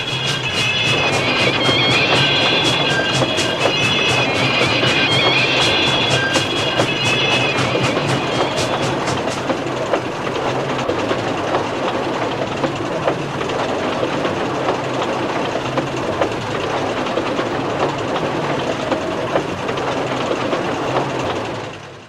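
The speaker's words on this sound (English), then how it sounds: "Sixteen was puffing along the line with the trucks behind him, and the rails clattered as he went" A steam train puffs and rumbles loudly along the track with rapid rhythmic clacking early on, then settles into a continuous heavy roar that fades at the end.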